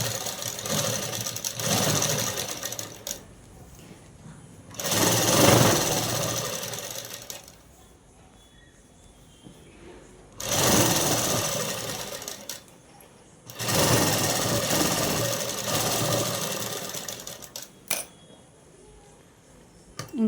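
A sewing machine stitches a seam on a dress, running in three loud steady bursts of rapid mechanical chatter separated by quieter pauses.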